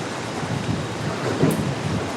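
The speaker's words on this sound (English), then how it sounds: "The wind and the rain has significantly picked up, I would say, even in just the last 15 minutes or so." Hurricane wind and rain lash St. Petersburg, Florida in a dense, continuous roar of wind-driven rain with low rumbling gusts. The sound is loud, broadband and steady, with one stronger surge partway through and no voices.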